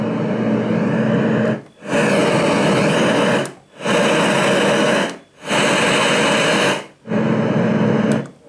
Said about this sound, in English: the white noise machine.